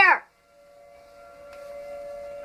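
A tornado warning siren rises as a faint, steady wail from a distance, following a brief loud noise at the very start.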